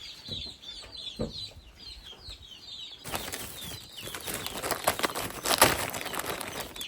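Chickens flap and cluck while being fed biscuits, first with scattered soft clucks and wing flutters, then a louder burst of flapping and scratchy commotion from the flock close by.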